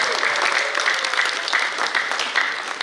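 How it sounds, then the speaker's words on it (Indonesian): Audience applause at a student camp gathering, a dense, steady patter of many hands clapping close by for the whole stretch, with no pause and no voices standing out. "Kita sambut dengan tepuk tangan yang meriah"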